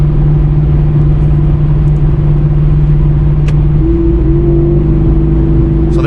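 A Pontiac G8 GT with its old exhaust setup cruising at steady highway speed, a loud, constant low engine and exhaust drone heard from inside the car, with a slight shift in tone partway through.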